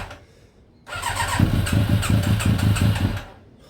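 A Yamaha YZF Thunderace motorcycle engine under restoration cranks and catches, then runs with a pulsing, uneven idle for about two seconds before cutting out, close and fairly loud.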